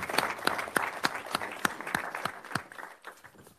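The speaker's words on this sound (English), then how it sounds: "How about a huge round of applause for our reintegration?" A round of applause at a committee meeting, many hands clapping steadily and fairly close, with a few sharper individual claps standing out, then thinning and fading toward the end.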